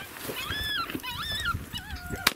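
A dog yelps and whimpers in a rapid run of high, wavering cries while fleeing from coyotes during a family coyote hunt outdoors, close and fairly loud with no talk.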